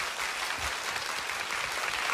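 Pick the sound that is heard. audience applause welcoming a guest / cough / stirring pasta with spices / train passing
audience applause welcoming a guest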